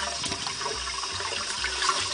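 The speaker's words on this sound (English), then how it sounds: "wash your potatoes, get all the dirt and the chemicals, all that nasty stuff off." Potatoes are washed and scrubbed under running water, a steady close rush of tap flow with rubbing and splashing throughout.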